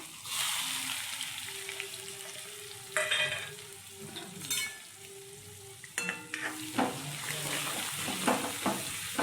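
Onion dropped into hot oil with bay leaves, cloves, asafoetida and curry leaves, bursting into a loud close sizzle that hisses steadily, with stirring clatter and surges as more is tossed in.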